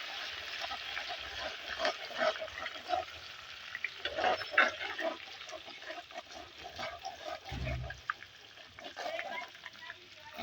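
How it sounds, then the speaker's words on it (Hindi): Garlic ginger paste sizzling in hot oil for a green chicken karahi, a steady crackling fry with occasional stirring clinks, fairly quiet and close, with a voice talking over it. "अब हम इसमें लहसुन अदरक का पेस्ट शामिल करेंगे।"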